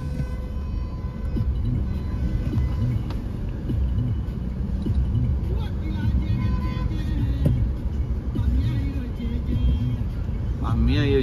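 A car drives along a town road with a steady, close engine drone and road rumble that runs the whole way through, while people talk inside over it.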